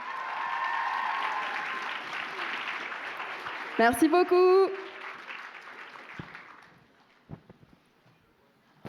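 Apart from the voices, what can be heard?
audience applause for a cosplay performance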